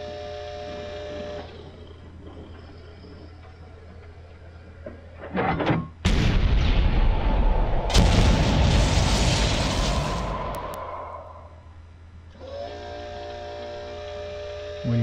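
Naval artillery rounds in a video game landing together on an ammo bunker, a heavy booming barrage rolling for several seconds before fading back to a low engine hum.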